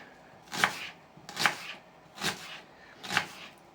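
A knife chops food on a board while making shashlik marinade: four evenly spaced, crisp, close chops, with no voices.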